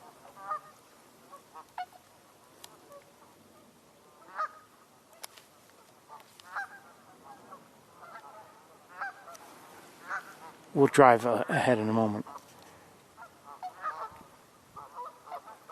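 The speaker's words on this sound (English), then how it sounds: "Hear a few vocalizations coming from the tundra swans." Tundra swans and geese call in a rural winter setting, with scattered short honks throughout and a louder burst of overlapping honking near the middle, while a person speaks briefly.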